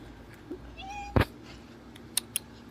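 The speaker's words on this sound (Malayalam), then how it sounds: "ഒരു പൂച്ച ഉണ്ട് കേട്ടോ." A cat indoors in Saudi Arabia gives one faint, drawn-out meow, followed by a sharp knock and a couple of light clicks.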